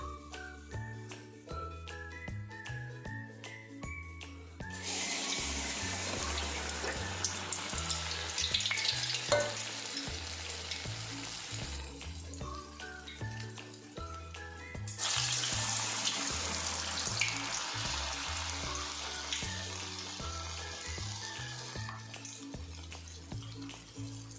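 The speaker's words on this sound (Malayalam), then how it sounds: "ഇനി നമുക്കിതിലോട്ട് ഉഴുന്നുവടയിടാം" Urad dal vadas (ulunnu vada) frying in hot oil in a Kerala home kitchen, a loud, steady sizzle that swells sharply twice as more batter goes in, with tonal background sound underneath.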